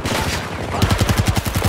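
Rapid automatic gunfire in Battlefield 2042 during a multiplayer firefight, a steady burst of close, punchy shots rattling out in quick succession after a brief lead-in of background battle noise.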